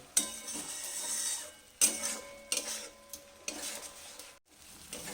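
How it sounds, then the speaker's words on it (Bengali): Tomato paste and spice masala frying in a pan for a Bengali hilsa makhani, with a spoon scraping and stirring in repeated strokes over a steady close sizzle. "টমেটোটা দিয়ে আবারও একটু ভালো করে কষতে হবে"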